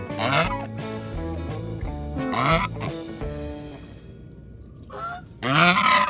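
A pet goose honks in loud, nasal bursts close by, several calls in quick succession with short pauses between them, with no talking.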